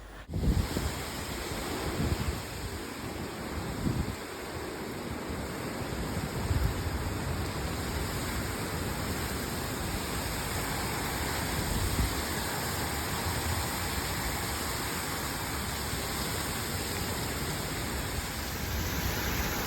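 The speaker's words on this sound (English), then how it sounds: "it's pouring rain. The rain's like sideways, you know, and it's windy." Steady heavy wind roars and buffets a microphone, with a dense rushing hiss of sideways pouring rain in New Zealand, continuous and loud throughout.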